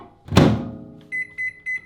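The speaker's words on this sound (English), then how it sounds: "We will warm it in the microwave." Microwave oven warming chocolate: a door thud or button press, then a low hum and three short, evenly spaced beeps close by, with no talk.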